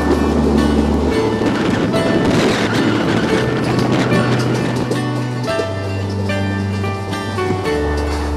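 A train runs on railway tracks in the Gokak and Ghataprabha area of Karnataka, giving a loud, continuous rolling rumble with a steady droning hum that shifts pitch partway through. No one speaks.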